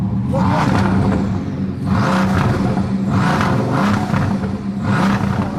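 A Bugatti Veyron's engine, fitted with an aftermarket titanium exhaust, revs repeatedly in loud, rising bursts with a raspy, roaring exhaust note, close by and without any talking.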